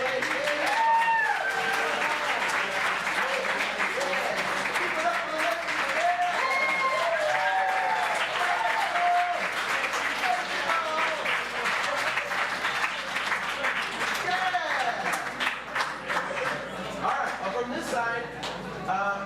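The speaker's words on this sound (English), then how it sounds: "Let's give a big round of applause for our people who showed up." A crowd claps at length at a community gathering, loud sustained applause mixed with cheering and overlapping voices that stays dense for nearly twenty seconds before thinning slightly near the end.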